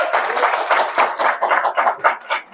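An audience claps in a brief, dense burst of hand claps at an indoor gathering.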